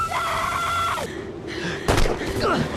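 Gunfire in an action film scene erupts as a sharp blast about two seconds in, followed by rumbling echoes, with tense music and voiced exertion around it.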